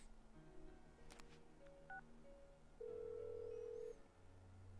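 Telephone keypad tones from a phone call in the Persona 4 video game: a handful of short beeps, then a longer steady dial tone, over a low background hum.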